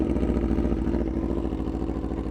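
Superbike engine, a Yamaha R1M or Aprilia RSV4, held at steady high revs at launch, a loud, close, rapid pulsing growl that stays even throughout without any talk.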